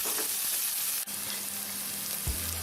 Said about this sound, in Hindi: हम अनियन को ऑयल में 1 मिनट के लिए पकाएंगे सिर्फ